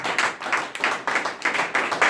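Rhythmic clapping from an audience at a church talk about Saint Valentine by Archbishop Diana, steady unison claps repeating about every quarter second, close and fairly loud with no voices over it.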